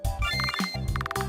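A phone call ringing in an RPG Maker horror game, heard as two bursts of a bright electronic ringtone with rapid pulsing trills over a steady low musical backdrop.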